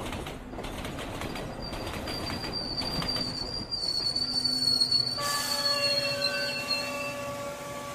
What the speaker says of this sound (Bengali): রাজধানী এক্সপ্রেসে হাওড়া স্টেশনে নামল